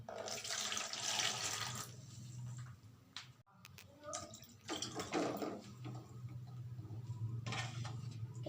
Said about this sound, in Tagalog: ilagay na po natin ang malamig na tubig na may asin